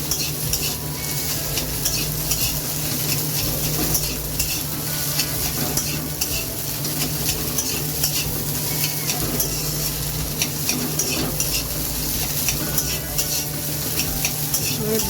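Eggplant frying in a large kadai, a continuous close sizzle with constant stirring and scraping of utensils against the metal, no voices.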